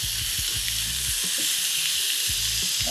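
Seared lamb sizzles steadily in a hot pan after being flipped, a dense continuous close frying hiss with a low rumbling undertone and no voices.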